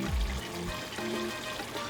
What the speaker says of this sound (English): I am going to add a little bit of beans right here, so green beans and some onion